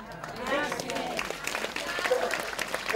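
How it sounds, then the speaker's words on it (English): A pilgrim audience at Medjugorje applauds for the Virgin Mary with dense, steady clapping throughout, while a voice speaks over it. "Questo applauso per la Madonna, grazie."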